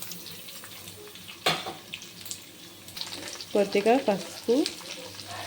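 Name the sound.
radish frying in a pan for chutney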